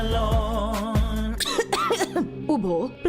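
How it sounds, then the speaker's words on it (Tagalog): Coughing and throat clearing open a radio cough medicine advertisement, a couple of harsh coughs up front, then a voice talks over music. "Ubo, premang nakabara, hirap sa paghinga."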